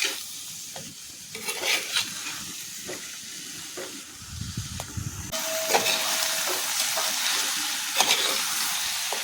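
Chicken chinthamani is stirred in a hot pan, with repeated spoon scrapes and clinks over a hissing sizzle that swells louder and steadier in the second half; no one speaks.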